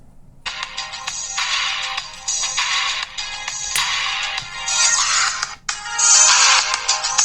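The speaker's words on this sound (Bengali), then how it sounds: "এই ছিল রিংটোন এবং এখানে কিন্তু অ্যালার্ট দিবে" Ringtone from a budget four-SIM button mobile phone playing a loud, bright electronic melody in repeating phrases, close and alone with no voices.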